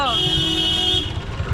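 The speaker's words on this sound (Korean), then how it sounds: "여러분 이 빵빵 소리 들리시나요?" A car horn blares in a sustained toot over busy, chaotic Indian street traffic, with engines rumbling close by.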